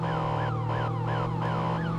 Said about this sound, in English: Definitely a federal signal siren for sure.